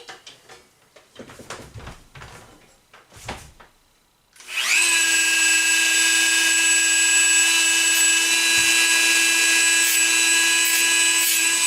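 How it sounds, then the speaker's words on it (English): A Dremel rotary tool fitted with a new grinding wheel cuts fresh slots into screws on a dance pad, starting after a few seconds of light handling noises and then whining loudly and steadily close by. "I'm going to get to work with the Dremel tool and get those screws, get a new slot cut in them"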